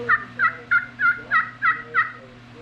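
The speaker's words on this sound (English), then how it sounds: "tree yelp or soft yelp." A soft tree yelp from a custom aluminum-over-slate turkey call: seven quiet, evenly spaced raspy notes, close and alone with a low hum underneath.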